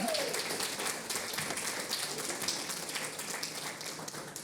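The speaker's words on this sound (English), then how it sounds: "How about another round of applause?" Audience at an Easter morning talk applauding after a song: a scattered, moderately quiet patter of clapping hands, sustained and slightly fading, with a faint voice briefly at the start.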